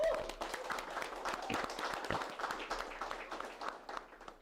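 Audience clapping at a live interview event in Bangladesh, a dense steady patter of many hands applauding at close range, continuing loudly for several seconds and easing slightly at the end.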